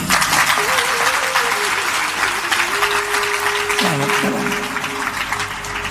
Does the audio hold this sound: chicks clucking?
no